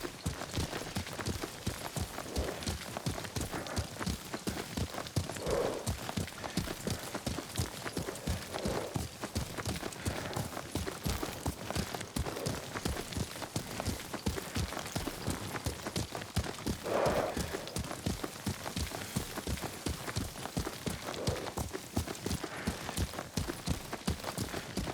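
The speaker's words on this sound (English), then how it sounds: "Lord Sakai taught me to ride a horse." Horse hooves gallop in the Ghost of Tsushima video game, a fast, even clip-clop rhythm that runs continuously and fairly close, with a few faint snorts or calls now and then.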